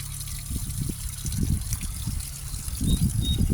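Water from a second waterfall on a homestead trickles and splashes steadily in a continuous, moderately loud stream, close by and heard alone.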